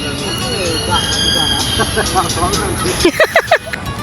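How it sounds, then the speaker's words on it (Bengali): A train passes near Kallang Park in Singapore, a continuous rumbling roll with a run of rhythmic squealing wheel screeches near the end, loud and fairly close. "ওই যে ট্রেন যাচ্ছে"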